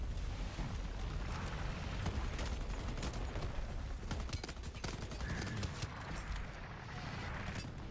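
Rapid, sustained automatic gunfire fills a co-op firefight against enemy soldiers in the shooter game Shatterline. The shots come as dense, loud, continuous bursts with little pause, and no clear speech.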